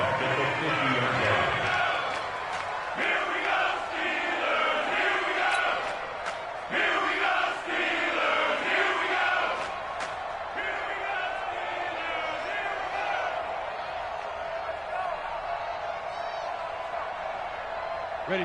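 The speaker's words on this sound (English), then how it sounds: "the crowd getting into it as we come up on a big 3rd down" Stadium crowd in a Madden football video game on PS4 roars steadily ahead of a big third down, a loud, continuous wash of cheering with commentary-like voices over it.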